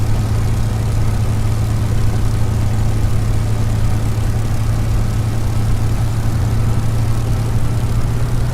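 Steady low droning hum of a warbird's engine idling as it taxis in Microsoft Flight Simulator, loud and constant with an even, unchanging tone throughout.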